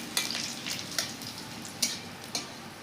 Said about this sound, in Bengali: তেলে দিয়ে দিচ্ছি দুইটা শুকনো লঙ্কা